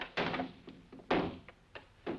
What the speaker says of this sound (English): if you don't open this door, we'll break it down!